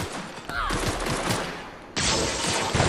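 Gunfire in the video game The Outer Worlds comes as dense, continuous bursts of shooting with explosive blasts, loud and unbroken across the clip, with sharp renewed volleys near the end.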